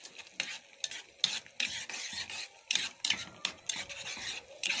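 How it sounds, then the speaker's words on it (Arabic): A spoon scrapes and stirs through thick tomato sauce for Egyptian koshari in a pot, rhythmic close strokes repeating about every half second with a faint simmering sizzle beneath. "اقلبها تقليبه كويسه، واسيبها تغلي شويه"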